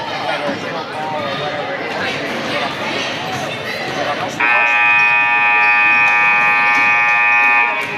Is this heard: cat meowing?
no